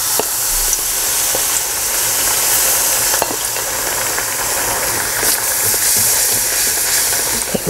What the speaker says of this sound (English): And then, this one is ready for frying.